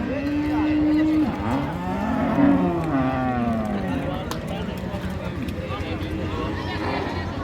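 Cows at the Raniganj cattle market in Dinajpur, where Friesian dairy cows are sold, give loud, drawn-out moos close by, one long low call followed by more, over steady crowd murmur and voices.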